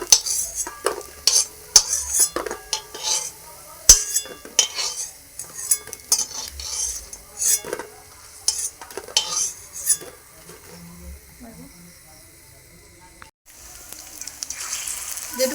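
Potatoes frying in a pan while being stirred, with repeated close scraping and clattering of a spatula against the pan over a low sizzle; the stirring stops near the end, leaving a quieter hiss.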